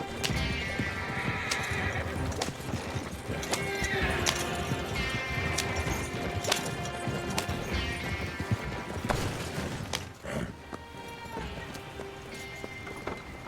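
Horse hooves clip-clop and a horse neighs as a horse-drawn wagon pulls to a stop in the Red Dead Redemption video game, with steady loud hoofbeats, wheel rattle and background music throughout.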